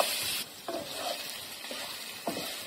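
Black pepper chicken fries in a pan with a soft, continuous sizzle and several separate stirring scrapes, heard close and quiet.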